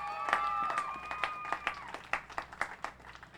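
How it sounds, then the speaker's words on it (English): Audience at a Touchdown Tour community event applauds to honor the Texans football team, with scattered, fairly sparse claps that rise and fall over a steady background hum and a sustained tone. "so give a round of applause to the Texans."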